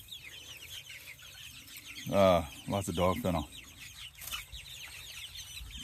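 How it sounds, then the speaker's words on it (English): Chickens on pasture around chicken tractors cluck and chatter at a moderate distance, with someone speaking briefly over the birds in the middle of the clip. "So we get all these birds out here."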